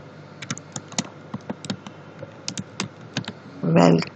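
Rapid close keystrokes on a computer keyboard as an SQL query is typed, irregular bursts of clicks with short pauses, followed by a brief louder thump at the end.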